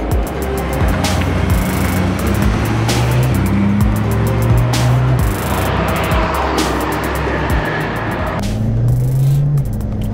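A BMW M3 E92 drives with a continuous, loud engine hum heard from nearby, the tone shifting as speed changes and easing slightly near the end.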